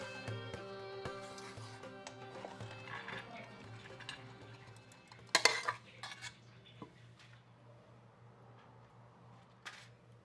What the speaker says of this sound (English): Always use a fork to mix the rice.